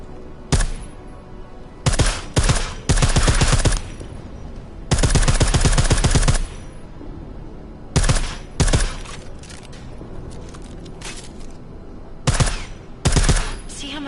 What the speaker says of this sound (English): I like how silencers reduce sound, but the trade-off is less stopping power.